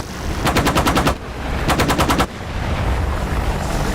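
In the DCS flight simulator, an aircraft's gun fires two loud, rapid bursts at ground targets, each about a second long with a brief pause between, followed by steady engine drone.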